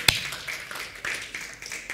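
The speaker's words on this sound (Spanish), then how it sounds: "Y le podrán dar un aplauso fuerte otra vez." A church congregation claps during a sermon, with a burst of sharp, irregular hand claps that thins into scattered patter, moderately close.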